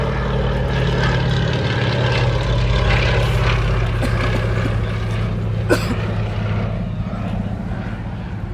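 A Fairey Swordfish biplane flies over the Duxford airshow, its propeller engine giving a loud, steady drone that fades slightly toward the end, with faint crowd noise beneath.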